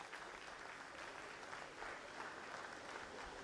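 Welcome applause for a director at an institute inauguration, a steady, fairly faint crowd clapping throughout with no break, heard from a distance.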